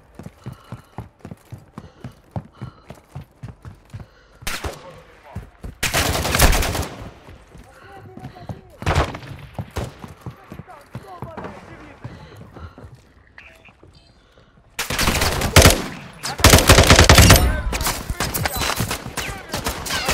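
Gunfire in Call of Duty Modern Warfare II, DMZ mode on the Vondel map: loud bursts of automatic fire and single shots in clusters, with rapid rhythmic footstep-like clatter and game voice lines in between.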